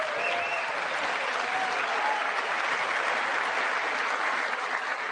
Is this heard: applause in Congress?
yes